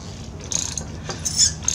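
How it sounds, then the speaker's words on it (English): A spark plug wrench with a 17 socket works on a Yamaha V-Star 650 motorcycle, giving a few quick metallic ratcheting clicks close up, with a brief sharper rattle near the end. "Get our spark plug wrench. Get it in there. Get a number 17 socket."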